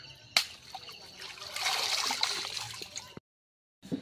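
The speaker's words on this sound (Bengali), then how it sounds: "আর একটু হালকা গরম জল দিয়ে ধুয়ে নেব" Lukewarm water runs and splashes steadily over a large pangas fish as it is rinsed, a close, continuous trickle that stops abruptly near the end, followed by a brief splash.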